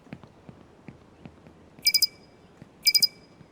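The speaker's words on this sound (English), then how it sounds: "So you can see now, we've set off the alarm." A laser tripwire alarm in an Unreal Engine game sounds as two quick bursts of three sharp electronic beeps each, loud and close, over faint soft ticking clicks.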